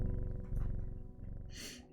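A cat purrs as it is petted in a video game, a steady low rumbling purr running throughout against a game soundscape, with a brief brighter hiss or chime near the end.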